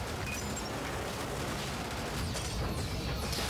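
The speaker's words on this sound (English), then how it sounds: "Watch out for the explosions." Explosions rumble through a session of the Brigador video game as a dense, continuous barrage of booms and crashes, loud and close, filling the whole stretch without a break.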